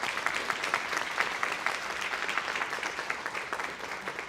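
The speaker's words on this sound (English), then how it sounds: "can we just also give her a round of applause?" Banquet audience at an annual awards dinner clapping for a keynote speaker, dense sustained applause filling the room at a moderate level, no voices on top.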